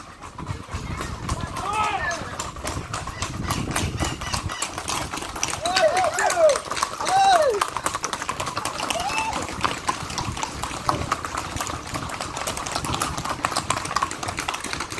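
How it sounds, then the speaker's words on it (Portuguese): Hooves clop on the street as a group horseback ride passes along an avenue in Itapina, a continuous patter of many steps under outdoor noise while people talk over it. "pessoal andando a cavalo aí, tem uma cavalgada aqui."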